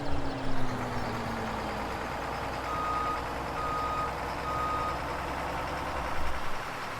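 Truck reversing beeps in Farming Simulator 17, a short series of evenly spaced electronic tones over a low, steady engine idle, moderately loud and fairly close.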